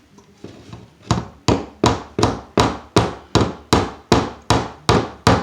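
A hammer strikes a screw into drywall about a dozen times in an even, steady rhythm. Each sharp tap is close and loud, and no voices are heard.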